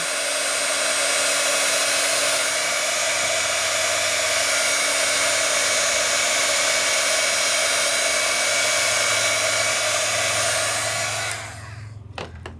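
Steady loud whir of a handheld heat tool blowing hot air to melt embossing powder on a stenciled craft project, running continuously before cutting off near the end.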